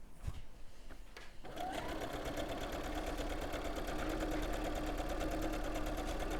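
An overlocker stitching fabric starts after a brief pause and then runs at a fast, steady mechanical whir with rapid rhythmic stitching, close and continuous to the end.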